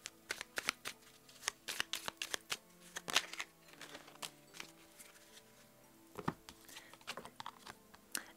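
Small oracle cards are shuffled by hand for a tarot-style reading, producing close, crisp flicking and slapping bursts in irregular clusters with brief pauses, fairly quiet and with no talk.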